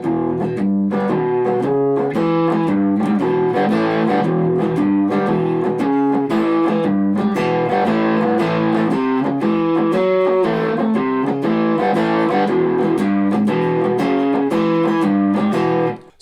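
A Squier Bullet Strat electric guitar plays through distortion on the neck and middle pickups, with chords and notes ringing loud and sustained for the whole passage before cutting off at the end.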